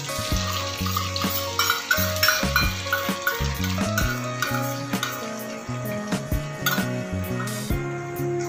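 A mixed sauce for honey chilli chicken sizzles and fries in a pan, with steady crackling and repeated stirring scrapes and knocks of a utensil against the pan throughout.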